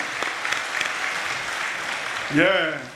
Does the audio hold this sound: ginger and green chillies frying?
no